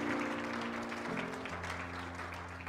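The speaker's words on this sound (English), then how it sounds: "Will you give him another clap of praise?" A church congregation claps in praise, a broad steady patter filling the short stretch, with sustained organ or keyboard tones underneath.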